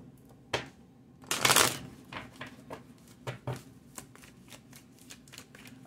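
Tarot cards are shuffled close up in soft, papery riffles and flicks, with one louder burst of shuffling followed by lighter scattered card taps.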